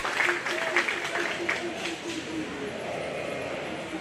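Scattered applause for sheep show exhibitors at a county fair 4-H/FFA show, a modest round of clapping in a large space with a voice talking over it and background crowd noise.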